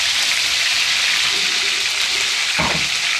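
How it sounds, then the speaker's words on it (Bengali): Eggplant slices frying in hot oil in a kadai make a loud, continuous sizzle that holds steady throughout, broken near the end by a single low thump. "বেগুনগুলা ছাইড়া দিল।"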